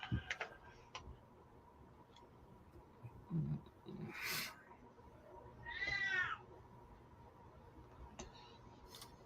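A cat meows a few times at moderate distance in a quiet room, short separate calls with faint ticking and small household noises between them.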